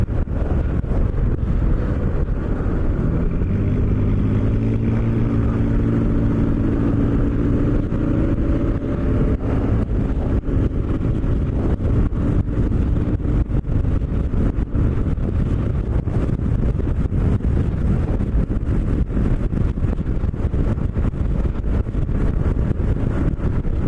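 Steady motorcycle riding on a road, a continuous low engine drone with rising harmonic whine as it accelerates early on, buffeted throughout by heavy wind rush over the microphone; no talking.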